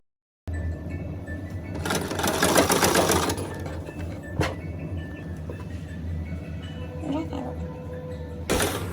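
A sewing machine stitches pleated kurti panels together, its rapid motor whir loudest early on, then continuing more softly with clicks and brief pauses, close by and steady.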